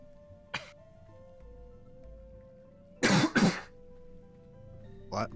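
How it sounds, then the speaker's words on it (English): A loud double cough, close and sharp, rising over a steady background of video game engine hum and ambient noise, with a short throat noise shortly before and another brief burst near the end. "Is a cough."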